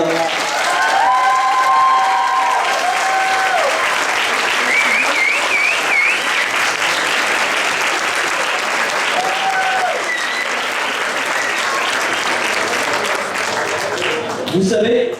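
Audience applause for twelve presidents at a school's 50th anniversary celebration, a loud sustained wash of clapping from a large crowd lasting the full stretch, with faint voices and a brief whistle-like tone riding over it.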